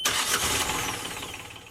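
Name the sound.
boat engine starting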